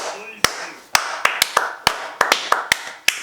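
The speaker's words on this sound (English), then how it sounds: "I'm appalled, but I'm clapping." A few people clap in scattered, uneven bursts while reacting to an anime finale, with sharp individual claps spaced irregularly over a quiet background.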